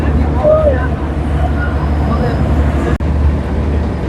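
A trawler's engine drones on a Sundarbans river, a loud, steady low rumble close by, with someone talking over it.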